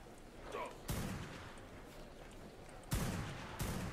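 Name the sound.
gunfire in the video game ARK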